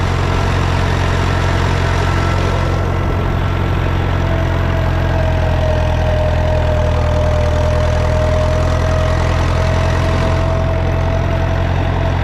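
A small red tractor's engine drones steadily and loudly throughout while pulling a roller, with a low rumble and a faint rising whine as it labours under load and the revs dip slightly.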